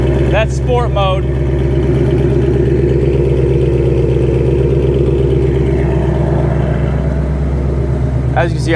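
A supercharged 800+ hp 2021 Mustang GT rumbles steadily in a parking garage, a loud, deep, even engine note held throughout with brief talk at the start and end.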